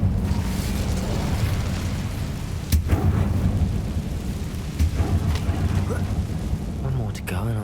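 Fiery blast of an Incendio spell in Hogwarts Legacy, a dense rumbling burst with booming thumps and crackle lasting several seconds, loud and close, while a voice speaks alongside.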